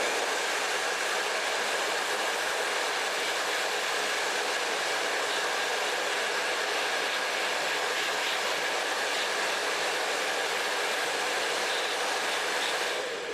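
A blow dryer runs steadily and loudly throughout, a continuous broadband whoosh with a faint whine, while curled hair is wound and dried on a round brush.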